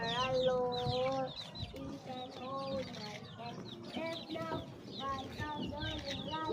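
Chickens in a backyard coop cluck and chatter continuously at close range, overlapping calls filling the whole stretch, with a person talking over them.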